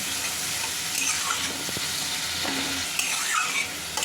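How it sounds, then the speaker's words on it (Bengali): Mutton for a korma fries on a high flame, giving a loud, steady sizzle broken by a few scraping strokes as the pieces are stirred around the pan. "প্রথমে আমি কিছুটা একদম ফুল করে ভেজে নিচ্ছি"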